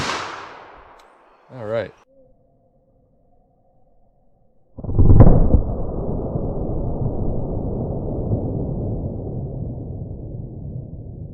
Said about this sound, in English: let's start up with our 44 special hollow point and see what this does